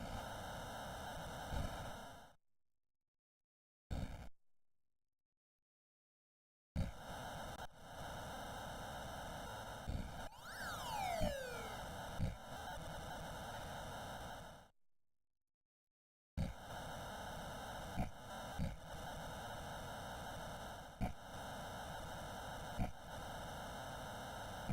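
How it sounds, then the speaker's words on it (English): An NES game from 1992 plays harsh, steady white-noise static with crunchy bursts and a descending sweep. Several stretches of sudden silence cut through it. "It's just white noise and then a little crunchy."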